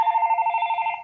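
A phone rings with one clear, close electronic trill, made of rapid steady pulses for about a second before it stops.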